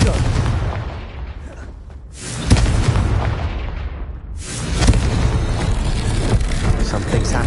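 A Confringo spell blast in the Hogwarts Legacy game, a loud booming burst that rumbles and decays, followed by a second heavy eruption of crackling noise that sustains to the end.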